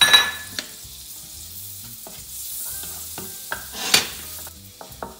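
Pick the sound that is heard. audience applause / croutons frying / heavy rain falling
croutons frying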